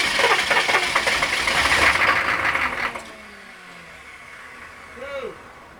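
An engine with its spark plugs removed cranks over in a loud, steady, rapidly pulsing whir for about three seconds, then cuts off, leaving quiet background noise and a brief, faint voice-like sound near the end.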